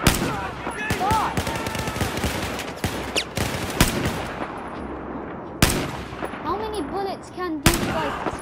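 Gunfire in Battlefield 4, a rapid stream of loud shots and heavy thuds with several sharper bursts standing out, while players shout and talk over the battle.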